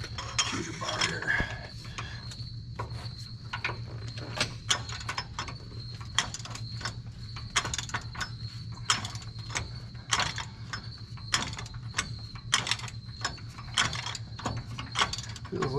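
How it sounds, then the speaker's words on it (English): A lug nut on a Ford Super Duty truck is worked loose with a cheater bar during a lift kit install. A run of sharp, close ratcheting clicks and metallic clanks repeats over a low steady hum. "Feels like this nut has a little bit of locking ability to it. It's coming off pretty easy now."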